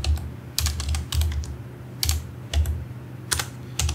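Keys on a computer keyboard clatter as JavaScript code is typed, with short bursts of close clicks separated by brief pauses, heard alone without talk.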